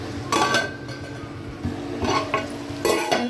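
A spoon stirs tomatoes and salt in a cooking pan for an egg curry, making repeated scraping strokes against the metal about every second with light clinks and a soft sizzle underneath.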